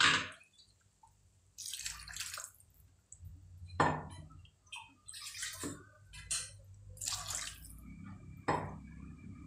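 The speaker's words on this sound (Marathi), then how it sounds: "त्याच्यामध्ये पाणी घालूया." Water poured into a pan of green cowpea curry, several short splashing pours and drips at irregular intervals, close and fairly soft.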